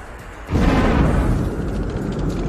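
A plane blows up from a grenade in an action film, a sudden loud boom followed by a sustained roaring rumble that slowly eases off.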